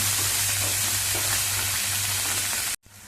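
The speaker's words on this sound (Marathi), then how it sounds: "थोडीशी बारीक चिरलेली कोथिंबीर घालूया. ती पण चांगली तेलामध्ये परतवून घेऊया." Finely chopped coriander sautés in a hot oil tempering, producing a loud, steady close sizzle that cuts off abruptly near the end before a quieter tail.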